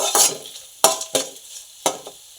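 Dry red chilies and curry leaves are stirred in a hot pan for tomato chutney, with four scraping stirs, each a short burst over a light sizzle fading between strokes.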